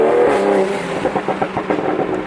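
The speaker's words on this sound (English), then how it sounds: "And the exhaust still sounds so epic." Toyota A90 Supra exhaust revving close by, a loud engine roar with several rising bursts and crackling pulses through the short stretch.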